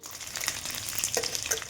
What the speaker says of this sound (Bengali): এবার কড়াই গরম হয়ে গিয়েছে, তেল দিয়ে দিলাম, একটু শুকনো লঙ্কা দিয়ে দিলাম, রসুন